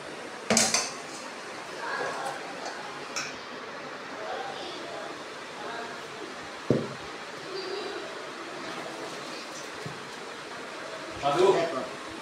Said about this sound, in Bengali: দেখো কলা, সুজি আর চিনি, নারকেল এগুলো দিয়ে একসঙ্গে আমি চটকে নেব।